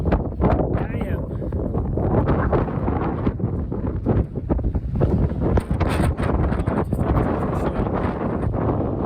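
Strong wind buffets the microphone outdoors with a heavy, continuous roar and gusty rumble, close and loud throughout with no clear voices above it.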